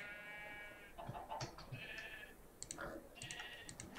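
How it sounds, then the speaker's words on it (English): Sheep in a blocky farming video game bleat a few times, faint wavering cries mixed with soft clicking sounds. "No, that's a sheep. That's not a cow."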